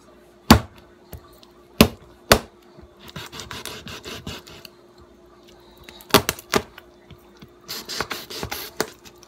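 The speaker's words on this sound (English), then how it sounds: "Then I'm gonna take this top portion and cut it in half." Knife chopping through a tough vegetable on a cutting board for curry chicken and pork with potatoes and carrots, several loud isolated thunks followed by bursts of scraping and sawing.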